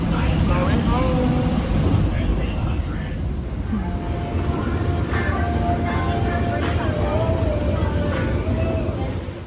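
A steady, loud rumble of a train interior in motion, with a constant low drone and faint background chatter throughout.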